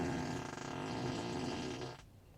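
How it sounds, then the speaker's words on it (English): A Tesla car's novelty fart sound effect played through the cabin speakers, one long drawn-out blubbering buzz lasting about two seconds before cutting off, close and clear with no talk. "you can make your car do a fart sound"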